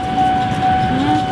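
A train passes beside a busy sambal food stall at the Pasar Minggu market, a loud, steady rumble with a sustained whistle-like tone on top. Voices murmur faintly underneath.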